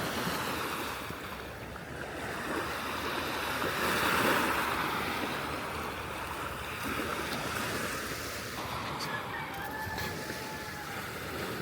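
Sea surf pounding the shore at Barangay Bayabas during Typhoon Uwan at high tide, a continuous heavy roar of breaking waves with gusting wind buffeting the microphone.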